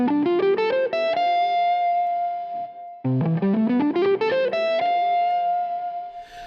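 A distorted electric guitar runs quickly up an ascending scale pattern to a sustained note, then repeats the run, loud and close.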